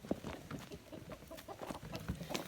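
Several chickens cluck close by in short, irregular bursts, with soft rustling around them.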